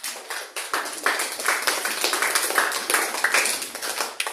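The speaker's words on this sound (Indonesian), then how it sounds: "terima kasih untuk Moza, tepuk tangan." A school class claps hands for a pupil during a lesson, a lively patter of individual claps from a small group in a room, moderately loud, with no speech over it.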